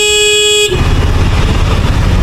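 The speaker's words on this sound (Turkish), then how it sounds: "Bir de korna geri çalıyor korna." A loud, steady car horn blares close by from a Volkswagen Golf 7, then cuts off into rumbling engine and road noise.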